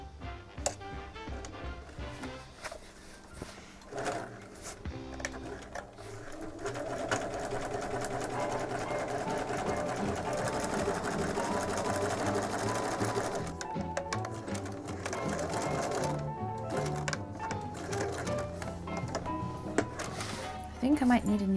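A sewing machine with tension trouble stitches a rain cape, running in long continuous bursts of fast, even mechanical whirring, with short pauses and a few clicks and knocks between runs.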